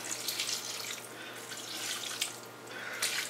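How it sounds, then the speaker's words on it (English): Hot meat bouillon is poured into a bowl for Bavarian head cheese, a steady, soft, close splashing trickle that goes on without a break. "So now I add a little hot bouillon that I've cooked the meat in it."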